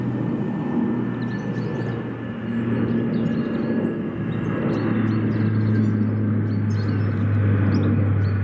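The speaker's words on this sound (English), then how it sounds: "US Air Force MC-130J doing a low pass over Cambridge Airport." A US Air Force MC-130J Hercules turboprop making a low pass over Cambridge Airport, a loud continuous droning engine roar with a steady tonal hum, sustained throughout with no talk.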